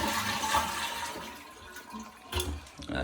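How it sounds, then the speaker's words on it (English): A household toilet flushes, a rushing surge of water that swells, eases, then gurgles and rushes again near the end, heard close and alone with no talking. "So I'm gonna flush my toilet"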